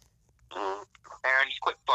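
Short fart noises come in several uneven bursts, sounding voiced and mouth-made, so a person seems to be imitating the sound rather than producing a real one.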